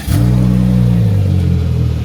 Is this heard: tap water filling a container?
no